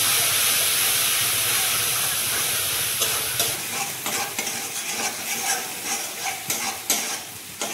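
Spice masala with chili powder, salt and paste is sautéed and stirred in a pan for a prawn malai curry, giving a steady loud sizzle that breaks into repeated scraping stirs partway through.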